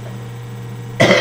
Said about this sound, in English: I have a vapor's cough, not a smoker's cough